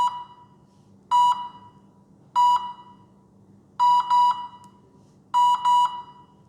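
An RC plane's electronic setup emits clear, shrill beeps in short bursts, single and double tones spaced about a second apart, loud and close over a faint background hum.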